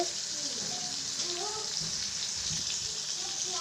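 Steady hiss of food frying in a pan, continuous and fairly close, with faint background sounds and no clear talk.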